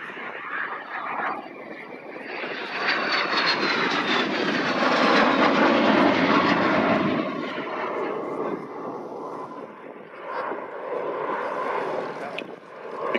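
A De Havilland DH112 Venom Mk 1 jet passes at the Omaka Classic Fighters Airshow, its engine roar swelling loud with a sweeping whine, peaking midway and then fading but staying audible.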